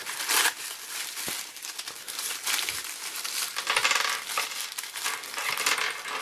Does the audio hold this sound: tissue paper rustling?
yes